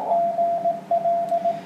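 Ham radio receiver after a bulletin ends, giving a steady tonal hum with faint static, loud and alone, briefly interrupted once.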